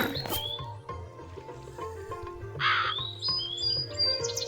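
A cartoon crow caws in short harsh bursts over a busy animated soundtrack with music and effects, the calls fairly close and repeated through the scene.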